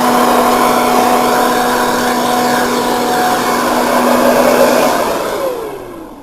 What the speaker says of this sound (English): turn off the blower